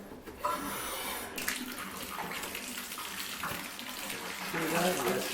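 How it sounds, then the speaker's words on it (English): Hot water runs steadily from a tap into a sink or tub during a home inspection, a broad continuous splashing hiss with a brief voice near the start. "I'm going to turn on the hot water."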